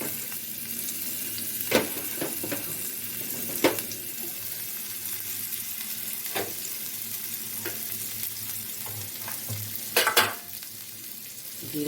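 Chopped onion frying in hot oil, a steady close sizzle and hiss with a few sharper clanks of a utensil against the pan.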